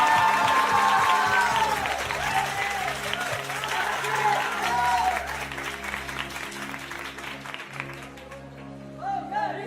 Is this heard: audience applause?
yes